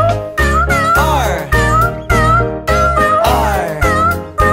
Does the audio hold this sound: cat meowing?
yes